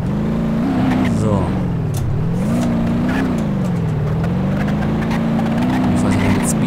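A fast car in the BeamNG.drive driving game roars steadily with a rising and falling engine drone, loud and close throughout, as someone talks over it.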